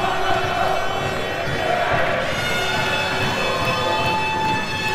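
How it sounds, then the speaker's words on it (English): Home fans roar and sing at a men's futsal match, a dense, steady crowd noise filling the indoor hall throughout with no break. "The crowd has gone absolutely wild for that one."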